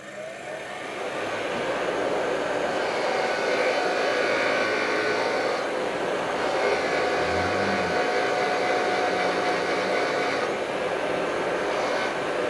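A grinder with a wire wheel whirs and hisses steadily as it scrubs carbon off a Ford 4.0 V6 cylinder head, loud and continuous with slight shifts in pitch as it bears on the metal.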